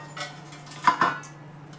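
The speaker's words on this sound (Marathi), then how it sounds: "तर बटाटे किसून घेते मी." Boiled potatoes being grated by hand in a home kitchen, a few short scraping rasps against a metal grater with light clinks of utensils, close and fairly quiet.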